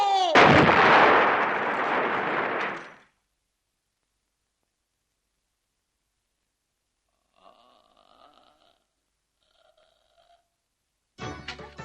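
A loud, booming blast rumbles for a few seconds and cuts to near silence, followed by faint tonal beeps and another sharp burst at the end.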